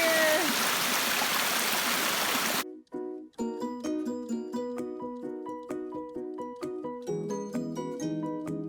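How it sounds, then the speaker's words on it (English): Clear spring water flows beside the Appalachian Trail, a dense, loud rushing trickle that stops abruptly after about two and a half seconds and gives way to a music passage. "we finally found some water that is not yellow, it's clear. It's a nice spring."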